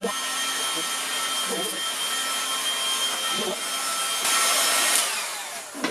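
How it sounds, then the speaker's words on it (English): A heat gun blows steadily on plastic for a fibreglass spoiler, a close, continuous airy roar with a faint whine, swelling slightly louder toward the end. "I'm going to use the heat gun again"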